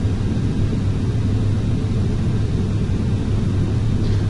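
Boeing 737 jet engines roar steadily during a takeoff roll down the runway in Flight Simulator X, a continuous loud, low rumble with a broad hiss that holds even throughout, with no voices.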